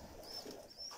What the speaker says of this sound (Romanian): și eu am grijă de porumbei lui